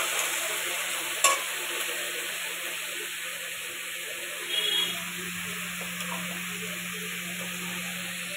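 Potatoes and tomato fry in a pan with a steady, close hiss of sizzling, broken by two brief scrapes or clinks of stirring.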